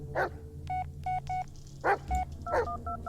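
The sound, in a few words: telephone dialing voicemail in the video game Blair Witch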